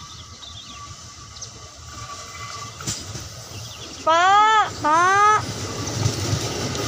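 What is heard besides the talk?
KRL JR 205 electric commuter train passing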